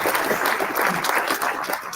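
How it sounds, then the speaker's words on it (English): An audience at a civility talk claps in a warm round of applause, a dense, even crackle of many hands sustained for the whole stretch with no speech over it. "Please give him a round of applause."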